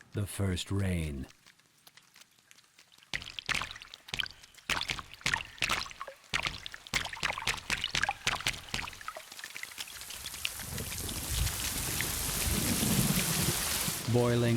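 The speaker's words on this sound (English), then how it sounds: "The first rain." Heavy rain with thunder, a primordial downpour on the early Earth: rain pours steadily while sharp cracks and rumbles of thunder break through, the downpour growing denser and louder toward the end.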